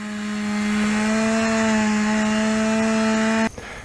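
A chainsaw drones at dusk in Mato Grosso do Sul, a steady buzzing whine held for over three seconds before it cuts off abruptly, heard from a distance.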